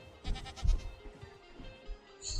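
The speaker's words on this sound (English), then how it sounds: "We're gonna take a boat with a goat." A goat in Minecraft gives a few quick wavering bleats, near and moderately loud, followed by quieter game sounds.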